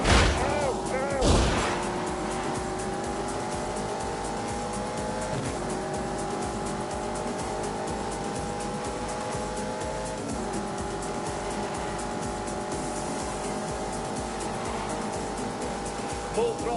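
A race car in The Grand Tour Game runs at full throttle with a steady, high engine whine that shifts pitch through gear changes, broken near the start by a brief loud screech.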